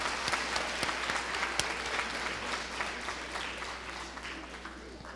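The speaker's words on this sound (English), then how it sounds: "So let's give them a round of applause for making this day possible." A conference audience applauds, steady clapping from many hands sustained for several seconds in a large hall, moderately distant.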